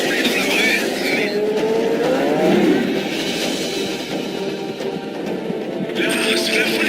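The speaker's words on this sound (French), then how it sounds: "Écoute ça. De 0 à 100 en moins de 3 secondes." Sports car in Tomb Raider Legend, set in Japan, accelerating hard with a rising, sustained engine roar, while people talk over it.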